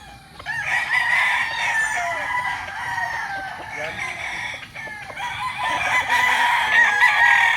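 Gamecocks bred for fighting crow repeatedly and loudly at close range in a barangay in Tanauan City, Batangas, the long calls overlapping with clucking from other fowl nearby.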